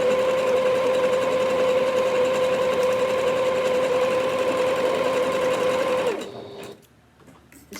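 A Singer Heritage sewing machine runs a zigzag stitch at a steady, close, loud whir for about six seconds, then slows and stops, leaving near silence.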